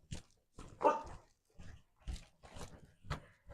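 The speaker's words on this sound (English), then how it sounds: "But you better stop barking." A dog barking indoors, several short sharp barks spaced irregularly, close and fairly loud against quiet.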